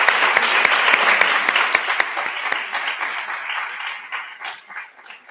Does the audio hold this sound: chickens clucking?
no